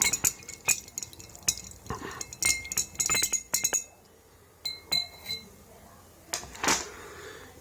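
Glass clinks from stirring colloidal silver solution in a glass: a quick run of light, bright taps, then a pause and a few sparser clinks, close and fairly quiet.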